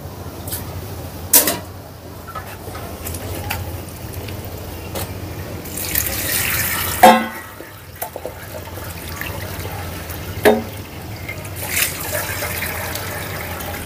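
Hot herb-infused water poured through a strainer, a steady close splashing trickle with occasional clinks of utensils and a louder gush partway through.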